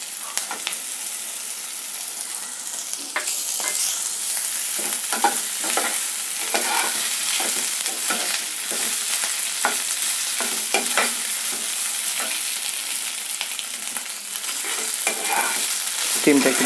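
A paste of crushed ginger, fennel and garlic sizzles in a pan with lightly fried onions, a steady close hiss broken by repeated scraping stirs throughout.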